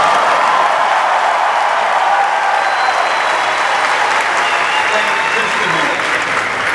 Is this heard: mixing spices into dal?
no